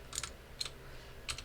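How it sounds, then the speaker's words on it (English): Three separate keystrokes click quietly on a computer keyboard, spaced irregularly in a fairly still room. "I'm typing in a weird way right now"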